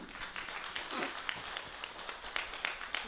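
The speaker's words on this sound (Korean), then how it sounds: "우리 하나님께 영광의 박수를 올려드립시다." A congregation in a Korean church gives steady applause, many hands clapping together at moderate, somewhat distant level for the full stretch, with no voices over it.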